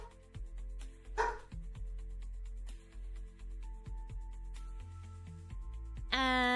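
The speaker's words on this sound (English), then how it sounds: "Yes, that was the dog, not a dinosaur." A pet dog barks a few times, close and fairly loud, over a busy background of mixed sounds with steady low hum.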